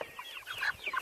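Chickens on an urban micro farm cluck close by in a short run of quick, overlapping calls that rise and fall, with no talk over them.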